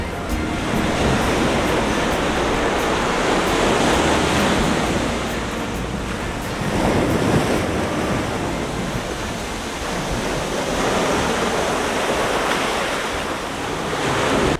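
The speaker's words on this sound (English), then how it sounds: "Here comes another wave" Ocean surf breaks along the beach at Sayulita, Mexico, a steady loud roar of crashing waves and hissing foam with gentle swells in intensity, wind rushing over the microphone.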